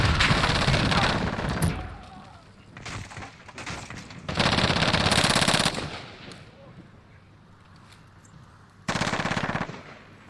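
An M4A1 assault rifle fires in bursts in Call of Duty Modern Warfare: three loud, rapid volleys with quieter gaps between them, the last arriving after a longer pause.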